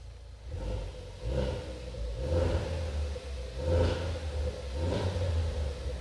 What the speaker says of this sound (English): I'll give it a quick few little blips here